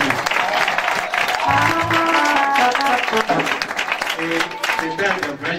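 A church congregation applauding and cheering for Jesus during a sermon, loud sustained clapping with shouts and voices throughout.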